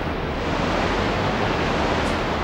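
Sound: Pokémon Surf attack wave sound, Pokémon Stadium 2 video game

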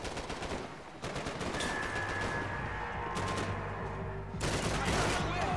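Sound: gunfire from above in the video game Max Payne 3

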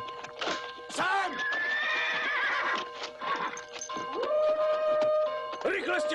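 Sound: horses neighing

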